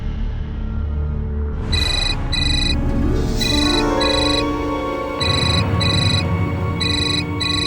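An incoming call sounds a phone ringtone, a repeating electronic chime pattern in short bursts over steady background sound, loud and close, in a domestic scene.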